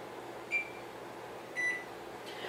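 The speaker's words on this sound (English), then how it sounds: "So I'm going to put my timer on" A kitchen timer being set on a stovetop cooking show sends out two short electronic beeps about a second apart, faint over a steady background hum, with no talking.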